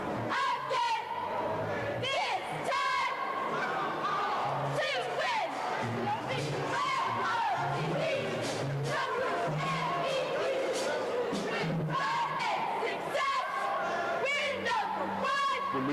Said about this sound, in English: Our Best Buy Best Cheer this week comes courtesy of the Lady Bruins of Broadneck.